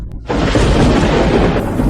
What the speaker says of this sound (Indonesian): Atas perintahku, kilat surgawi sambar dia untukku.